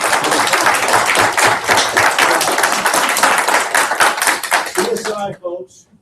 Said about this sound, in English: Let's give them all another applause for